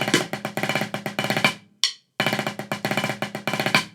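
A rapid, loud run of snare drum strokes in repeating groupings of five, from a drum corps snare break, pausing briefly midway with a single cymbal-like hit before the pattern resumes.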